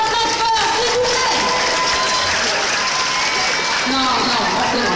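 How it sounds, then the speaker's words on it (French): Sustained, loud audience applause and cheering for a contestant at a 2019 manga cosplay contest, dense and continuous, with a voice speaking over the crowd. "on l'applaudit encore très fort, s'il vous plaît"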